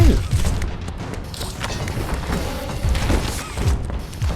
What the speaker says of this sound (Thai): ยิงให้มันระเบิดได้